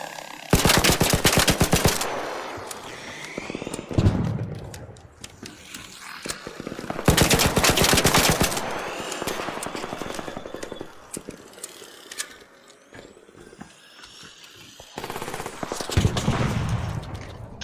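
Loud automatic gunfire in the video game ARC Raiders comes in three long rapid bursts, separated by quieter stretches of mechanical clicks and clatter, with no talk.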